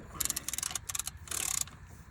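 A socket wrench on an extension ratchets a nut back three turns on the transmission of a 2000 Dodge Ram 2500 4x4 diesel, giving bursts of close, bright clicking that come in a few separate runs.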